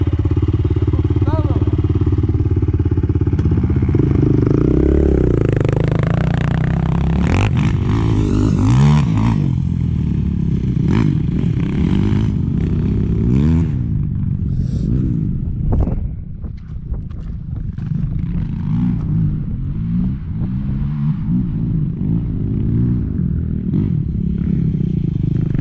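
Honda TRX450R quad idling and revving after a kickstart, a steady loud engine drone that rises and falls through the clip, with faint voices talking over it.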